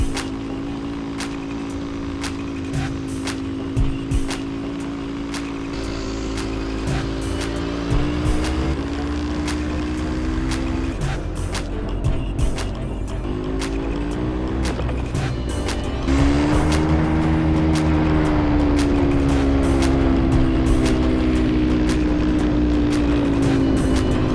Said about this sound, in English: I think I'm gonna give you guys a quick video of me riding a quad bike.